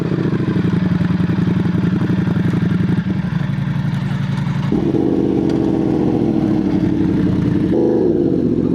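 Ducati Panigale V4 motorcycle engine running close by with a rapid, clattering pulse, the pitch stepping up through several revs as it accelerates.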